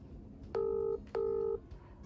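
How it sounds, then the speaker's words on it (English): Two steady telephone dialing tones sound close and clear, each lasting under half a second with a short gap between, over a quiet background hum. "Let me try calling now and see what happens."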